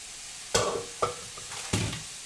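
Goma tofu mixture being stirred in a pan, with three or four separate scraping strokes rising from a quiet hiss.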